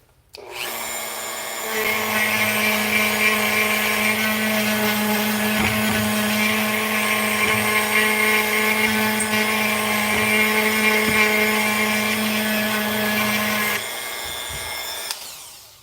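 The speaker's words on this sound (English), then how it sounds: "I think I might need this Dremel a little bit again" A Dremel rotary tool sands the body of a cheap guitar with a close, steady high-pitched whine. It spins up, holds evenly for about twelve seconds, then stops.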